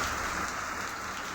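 Heavy rain pours steadily in Tirunelveli, a dense, continuous hiss of drops hitting the ground and surfaces, loud and close with no break and no voices.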